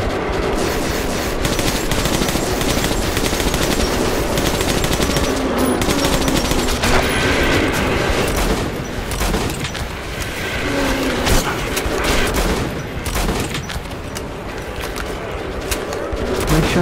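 Gunfire from the first-person shooter Metro 2033 sounds as loud, dense blasts and rattling shots close up across the whole stretch, with brief dips between bursts.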